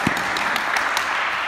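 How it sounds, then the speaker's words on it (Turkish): A short burst of brisk applause from a group on a sports high school coordination course, steady and fairly loud, lasting just over a second. "Bir moral alkışı alalım arkadaşımıza."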